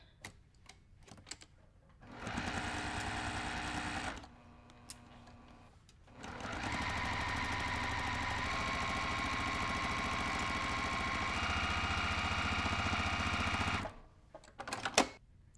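A sewing machine stitches a quarter-inch quilt seam in two runs, a short burst followed by a longer steady whirring hum, with quiet clicks and handling between and after.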